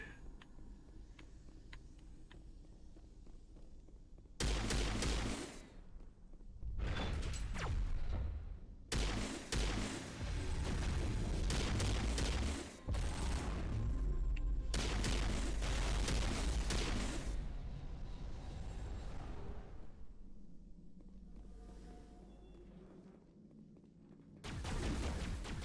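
Gunfire in the video game Mass Effect, several loud bursts of shooting separated by quieter stretches, sharp and close, with occasional footsteps between the volleys.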